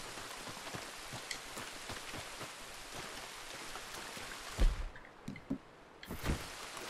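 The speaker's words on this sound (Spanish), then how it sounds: "¿Qué? ¿Solo porque está lloviendo?" Steady rain in Red Dead Redemption 2 patters on surfaces with scattered drips, joined near the end by a few soft thuds and splashy bumps.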